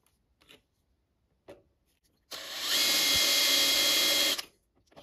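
A power drill bores out a broken exhaust stud with a steady, close, high whine that lasts about two seconds and then stops, after a few faint knocks.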